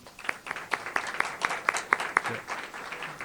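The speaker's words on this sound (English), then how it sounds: "Let's give them all a round of applause." Audience applause at a ribbon cutting ceremony for The LINK, with a run of distinct, fairly close claps over a scattered crowd before fading after about two and a half seconds.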